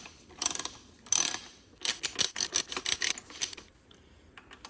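A 15 mm bolt is driven into a Porsche Boxster alternator with a ratchet, heard as quiet bursts of rapid clicking with short pauses between strokes, close and alone.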